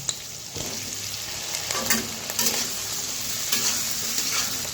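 Onion and capsicum stir-fry in a pan for chili chicken, giving a steady sizzle and hiss with scraping stirring strokes that rise and fall. No one speaks.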